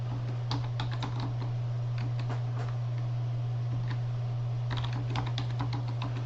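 Computer keyboard keys tapped while entering a user ID and password into a database connection, a quick irregular run of clicks in two bursts over a steady low electrical hum.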